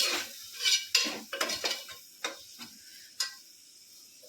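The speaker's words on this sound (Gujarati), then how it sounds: "તો સારી રીતે હલાવી નાખવાનું।" Spoon scraping and clinking in a pan while stirring tomato with garlic-chili paste and turmeric for an eggplant and potato curry, a series of close, irregular metallic taps and scrapes with no voices.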